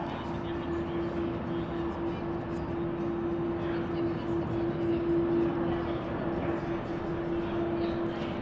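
A Boeing 787 Dreamliner at a busy international airport gives off a steady, broad engine roar, held at an even loudness throughout, with a faint constant tone running through it.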